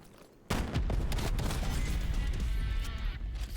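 Shotgun fire in Call of Duty: Black Ops Cold War beta on PC erupts suddenly into a loud, dense burst of blasts and crashing game effects that sustains for a few seconds.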